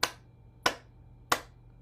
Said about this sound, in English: Clapping, maybe a little slower